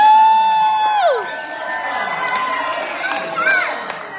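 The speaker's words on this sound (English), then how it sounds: "Give them a big hand." At a Vacation Bible School graduation, a voice lets out a high, rising whoop that slides down, then a crowd of children and adults cheers in a lively, continuous roar nearby.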